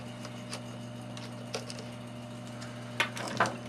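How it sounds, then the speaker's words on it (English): Faint metallic clicks and ticks from a T25 Torx wrench backing out a screw during a crank lock installation, scattered over a steady low hum, with a small cluster of sharper clicks near the end. "remove the screw with a T25 Torx"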